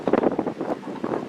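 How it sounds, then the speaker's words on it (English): Gusty wind buffets an outdoor microphone in a backyard chicken yard, a close, steady rushing roar with uneven swells and no one speaking. "This unfortunately is pretty windy today"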